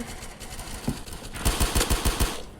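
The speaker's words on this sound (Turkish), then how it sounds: "Bakayım şuradan biri sıkıyor." Rapid bursts of automatic gunfire in a shooter video game, fired near an enemy base; a single shot is followed by a quick string of loud, evenly spaced shots, with no talk.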